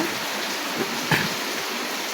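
Steady, soft rain falling with a continuous hiss and a few faint drips, no voices.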